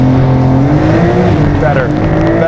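A 2025 Porsche sports car on winter tires pulls hard off the line on a wet road, its engine note holding a loud, steady, rising drone with sustained harmonic tones throughout a brief full-throttle launch.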